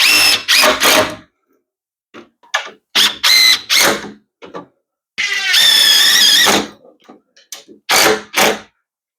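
A power drill drives fasteners into a wooden wheelchair ramp in loud, close bursts of whirring, one longer run among several short ones, separated by silent pauses.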